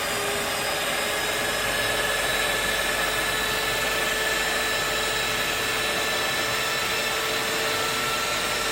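Stand mixer working bread dough and flour for agege bread on low speed, a steady loud motor whine with a constant hum running unbroken throughout, no voices.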